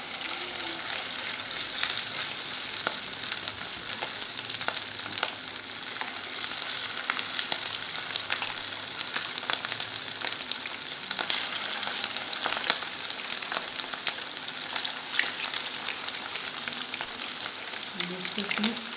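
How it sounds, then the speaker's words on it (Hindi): Beef fries in oil in a pot for Madrasi handi, giving a continuous close crackling sizzle with scattered sharp pops throughout, with no talk. "अब इसको करते हैं हम फ्राई।"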